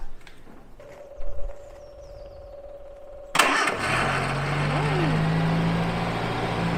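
A Morris 1300 car engine cranks and fires up with a sudden loud start, then settles into a steady running drone close by, with brief talk before it.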